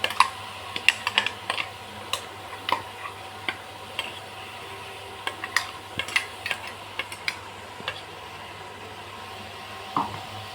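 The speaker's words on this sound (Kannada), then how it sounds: "ಇದನ್ನು ಒಂದು ಸ್ವಲ್ಪ ಎಣ್ಣೆಯಲ್ಲಿ ಬಾಡಿಸ್ಕೊಬೇಕು" Ground masala paste for an aloo and fenugreek kurma is stirred as it fries in oil: irregular spoon clicks and scrapes against the pan over a soft, steady sizzle, close and without speech.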